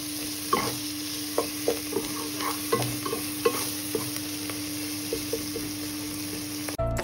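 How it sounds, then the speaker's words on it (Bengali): Chopped onion and garlic fry in a spoonful of ghee in a hot wok, a steady close sizzle broken by repeated stirring knocks of a spatula, no talking. "কড়াই গরম হওয়ার পর দিয়ে দিচ্ছি 1 চামচ ঘি, তার সাথে দিয়ে দিচ্ছি পেঁয়াজ আর রসুনের কুচি।"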